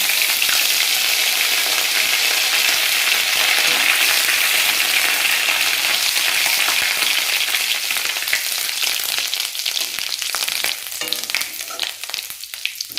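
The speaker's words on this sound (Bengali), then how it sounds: "কালো জিরে আর আমার আদাটা ভাজা হয়ে গেছে, তেলটা কালো হয়ে গেছে" Continuous loud sizzling of ginger and nigella seeds frying in hot oil, steady and hissing close by, with occasional stirring clicks toward the end.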